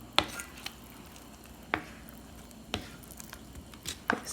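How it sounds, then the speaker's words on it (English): Meatballs stirred into sour cream sauce in a Le Creuset braiser, with soft squishing and a few sharp clinks of a utensil against the pot, spaced out and quiet. "Here's the meatballs in the sauce, and I'm just going to go ahead and mix them all in."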